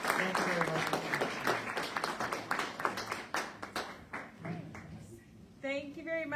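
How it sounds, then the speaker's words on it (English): A lecture audience breaks into applause at the end of a talk, dense clapping that thins out after a few seconds before a speaking voice takes over. "Let's give a round of applause."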